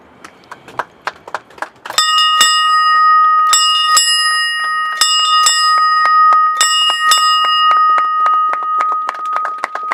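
The ship's bell of HMS Pickle rings out at a commissioning ceremony in sharp, loud paired strikes whose metallic tone lingers, after a few seconds of scattered clapping-like taps.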